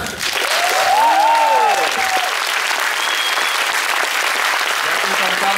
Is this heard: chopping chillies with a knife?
no